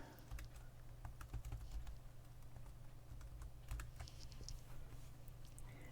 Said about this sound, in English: I'm just going to type the word Halloween.